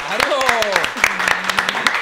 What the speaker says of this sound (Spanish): el aplauso, hombre